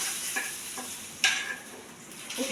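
Onions frying in a pan with a soft background sizzle, broken by a few short stirring scrapes and one sharper clink, fairly quiet and with no talk.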